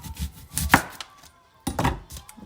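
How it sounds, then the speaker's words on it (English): A knife chops a peeled onion on a board in two short bursts of quick cuts, close and crisp, with a pause between them and no voice. "here's a way you can cut onions"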